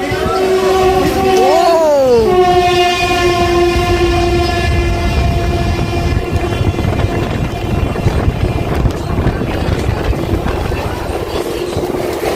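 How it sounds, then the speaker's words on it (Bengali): The Malda–Howrah Intercity Express passes Liluah: a loud, close horn blast bends downward in pitch as the train goes by, followed by a steady, heavy rumble and clatter of the passing coaches. "মালদা হাওড়া ইন্টারসিটি এক্সপ্রেস এই যে যাচ্ছে লিলুয়া পার করছে"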